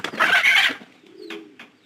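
Pigeons kept in a domestic loft, giving a loud burst of close cooing followed by softer, fainter calls, with no one talking.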